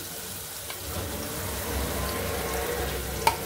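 Spices and ginger-garlic paste frying in a pan as the base for a shing fish curry, a steady close sizzle and crackle with faint clinks throughout.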